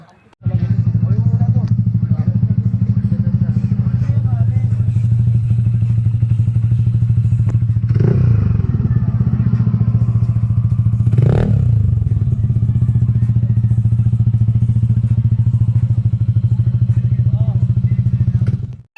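A Yamaha Aerox 180cc scooter with a Racing Boy exhaust drones loudly and steadily with a raspy exhaust tone for a long stretch, with a couple of brief thumps and clatters partway through.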